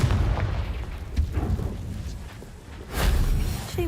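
A Confringo spell explodes in the video game Hogwarts Legacy with a deep, rumbling boom that lingers, followed by a second loud burst near the end.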